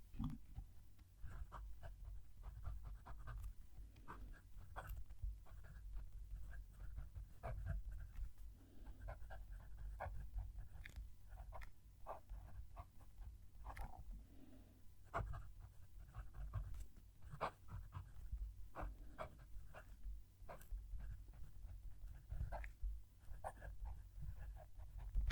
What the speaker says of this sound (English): move the mic down to the page so you can hopefully hear the pen writing